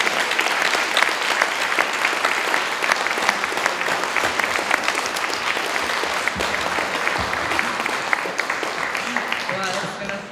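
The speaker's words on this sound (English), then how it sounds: "Would you give her a hand clap with me?" A live audience at a conference session claps in sustained, dense applause that fills the whole stretch at steady loudness, with voices mixed faintly underneath and a brief tailing off at the very end.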